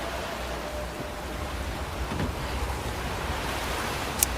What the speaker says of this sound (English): Now I don't know if it's just a storm coming in. Man, this beach is loud.